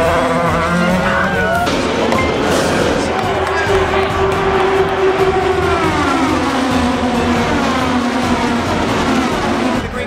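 Race cars speeding and passing each other: engine whines rise and fall in pitch as the cars sweep by, with a sustained tone sliding down near the end, mixed with background noise and talk.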